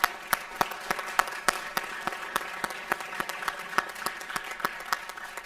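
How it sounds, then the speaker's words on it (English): An audience at a school spring sports awards ceremony claps in a steady, scattered patter of many hands in a room, fairly close and continuous. "give him a round of applause."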